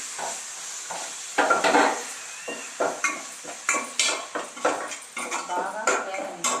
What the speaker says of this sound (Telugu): స్టవ్ మీద గిన్నె పెట్టుకొని తయారు చేసుకున్న మసాలాని దీనిలో వేసి